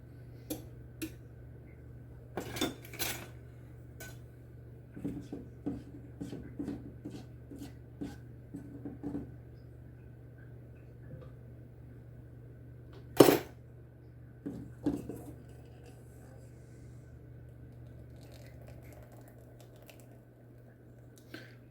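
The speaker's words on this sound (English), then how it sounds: "Let me give this a good scrape." Spatula or spoon scraping a mixing bowl while making lemon cobbler in a home kitchen, heard as a series of short scrapes and clinks with a sharper knock near the middle, over a steady low hum.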